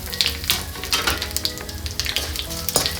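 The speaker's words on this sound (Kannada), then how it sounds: "ನೀಟಾಗಿ ಫ್ರೈ ಮಾಡ್ಕೊಳ್ಳಿ" Cumin and garam masala frying in a pan for chicken liver fry crackle in a close, loud sizzle, broken by repeated sharp spitting bursts, with no one speaking.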